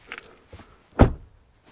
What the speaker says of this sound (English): Very good door closing sound, solid sound.